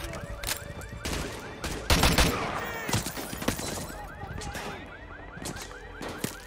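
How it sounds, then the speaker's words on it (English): Rapid gunfire fills a Call of Duty: Modern Warfare 2 campaign firefight, with loud overlapping bursts and single cracks throughout, a heavy cluster of shots near the middle, and sharp reports trailing off toward the end. "Is anyone else gonna shoot back, or am I just gonna keep getting shot at?"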